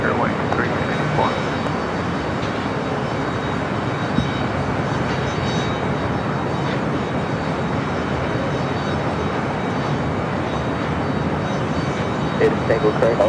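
Airliner taking off from runway 25 right at LAX, a broad steady roar of jet engines holding at constant loudness throughout, with airport background noise.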